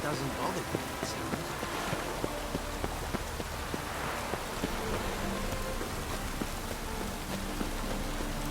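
Steady rain falls in The Witcher 3 video game, an even, continuous patter with faint thunder-like rumble and scattered footsteps, while someone talks over it.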